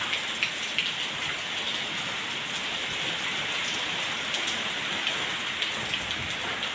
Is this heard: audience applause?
no